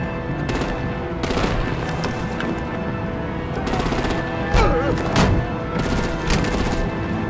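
Sustained automatic gunfire and artillery bursts in Batman: The Telltale Series, rapid machine-gun rattles layered with heavier booming hits, loud and dense throughout with brief louder impacts midway.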